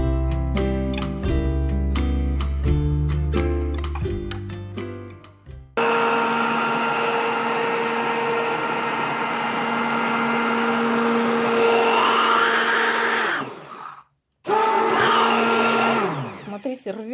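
Zigmund & Shtain BH-345M 1500 W immersion blender, heard after a few seconds of music as a loud, steady high-pitched motor whine that briefly stops and starts again.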